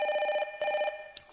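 Telephone ringing in a bright electronic tone, two bursts of rapid trilling pulses with a short gap between them, followed by a faint click at the end; no talking.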